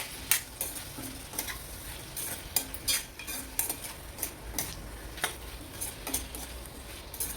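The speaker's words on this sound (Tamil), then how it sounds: "இது எல்லாத்தையும் சேர்த்து நம்ம மிக்ஸ் பண்ணிக்கிறோம்" A spoon stirs a potato fry seasoned with turmeric and salt in a pan, giving regular scraping clinks against the metal over a soft, steady sizzle, close and fairly quiet.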